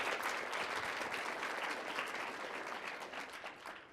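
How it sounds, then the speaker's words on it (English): A crowd gives steady, dense applause at a high school college signing ceremony for a student athlete, heard from a distance and fading slightly toward the end. "Big round of applause for Miss Ashley."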